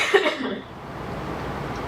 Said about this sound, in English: I did cough.